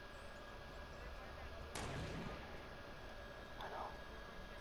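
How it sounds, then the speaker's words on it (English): A single distant gunshot in Fortnite, a faint crack with a brief tail over a low steady background, followed by a softer, quieter pop. "They're shooting that guy that's in there in the lake."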